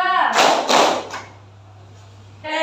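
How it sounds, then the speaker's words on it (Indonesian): A classroom group claps a rhythmic pattern in twos and threes, producing sharp, loud, close hand claps in quick bursts, with a short pause and a steady hum before the clapping resumes. "Tepuk 2, tepuk 3, tepuk 2."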